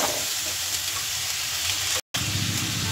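Vegetables sautéed with salt in a hot pan for a Bengali fish curry, a dense and continuous close sizzle with one brief cut to silence near the end, no voices.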